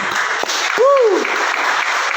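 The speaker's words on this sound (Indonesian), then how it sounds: "Tepuk tangan untuk Tuhan dulu." Applause from a church congregation during a sermon, a loud burst of clapping with a brief rising-and-falling whistle or cheer cutting through it.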